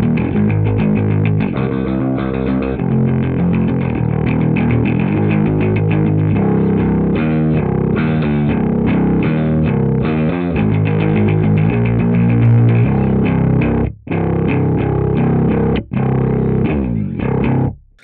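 Electric guitar played through a Mooer Minimax M1 modeller preset, a continuous distorted, effects-laden tone with strummed chords and riffs, loud and alone, broken by two brief pauses near the end.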